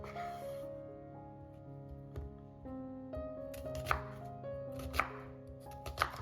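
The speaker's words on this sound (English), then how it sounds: "I now cut 2 onions." Knife chopping red and white onions on a board, a series of crisp taps at an irregular pace over quiet background music, with a few sharper cuts near the end.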